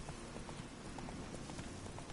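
Horse hooves clip-clop in The Witcher video game, a steady rhythmic trot of many close hoof strikes running continuously over a dense background of game ambience.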